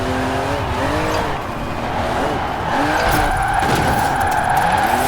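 A 1991 GMC Syclone drifting in Forza Horizon 4 with a rear-wheel-drive tune: a steady loud engine drone with wavering pitch and continuous tire squeal throughout, with no voices.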